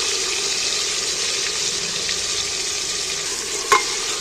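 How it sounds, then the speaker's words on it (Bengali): Chopped tomatoes being stirred as they fry in a pan of oil, a steady close sizzle with light scraping of the spoon and one brief sharp clink near the end. "টমেটোটা নেড়ে দিচ্ছি"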